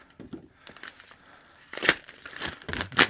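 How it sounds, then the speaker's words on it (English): A knife slices through the packaging of a DJI Osmo Action 4 camera, close crinkling and tearing of plastic and cardboard in short irregular bursts, growing louder toward the end. "let's open up this DJI Osmo Action 4."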